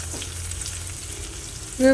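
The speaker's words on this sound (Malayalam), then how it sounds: "ഇഞ്ചി അത് ഇട്ട് കൊടുക്കാം നന്നായി മൂത്ത് വരട്ടെ" Ginger pieces frying in a pan for an egg roast give a steady, close sizzle throughout, ending in a brief louder tonal clatter.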